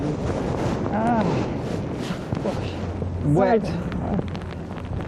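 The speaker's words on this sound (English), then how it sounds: "It's just too windy." Strong storm wind at the seaside buffets the microphone with a constant low roar, while a person talks briefly over it.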